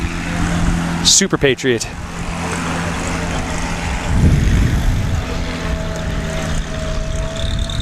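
A Husky STOL plane's propeller engine drones at a fly-in airshow demonstration, a steady hum that swells briefly as it takes off, with a voice commentating over a loudspeaker early on.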